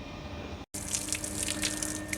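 Water from a garden pipe pours steadily onto potted plants in hot sun, a continuous splashing hiss broken by one brief gap, with scattered bright spatters and drips, close and alone.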